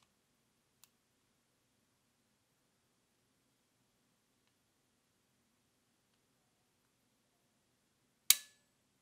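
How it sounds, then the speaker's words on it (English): On a Taurus Curve pistol, the trigger is pulled through its long travel and releases with a single sharp, close click near the end. A faint tick sounds earlier in an otherwise quiet room. "The trigger, as you pull this, it's like there is miles of travel before you even get to a stopping point where the trigger will fire."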